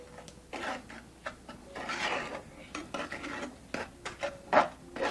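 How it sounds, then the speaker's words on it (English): Panoche candy is stirred in a pan on the stovetop, giving soft, close scraping and rasping strokes in an uneven rhythm with a few light clinks of the utensil against the pan. "So this is the long process, just standing here stirring."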